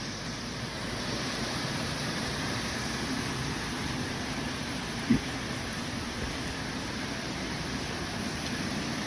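Comer's Creek Falls, a waterfall on the Appalachian Trail in Virginia, pours as a steady, dense rush of white noise that stays even throughout, with a single faint knock partway through.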